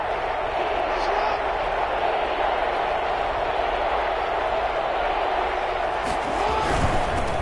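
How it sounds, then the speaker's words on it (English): Madden football video game stadium crowd noise in a domed stadium: a loud, constant roar that swells slightly near the end, with commentary voices over it. "The crowd here in the Dome making things difficult."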